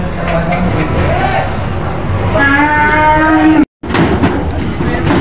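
Water buffalo (carabao) low and moo at the Lucena livestock auction market, with one long drawn-out call rising out of a crowded bustle of voices and engine noise.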